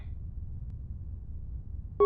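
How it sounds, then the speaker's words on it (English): Proximity alarm in the Star Wars: Knights of the Old Republic II – The Sith Lords video game sounds a short, clear electronic beep after a low rumbling hush, brief and alone. "It is the proximity alarm."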